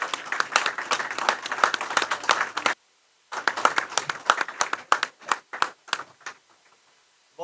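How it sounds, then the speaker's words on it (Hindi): Loud, dense audience applause at a political gathering about Scheduled Caste commission issues, breaking off briefly, then resuming in a thinner, more scattered burst of clapping that fades out. "जोरदार ताली बजाइए, जोरदार बजाइए से"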